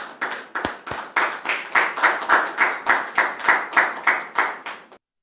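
Studio audience clapping in unison to welcome a guest onto a talk show, a steady rhythmic beat of about sixteen sharp, loud claps that stops abruptly.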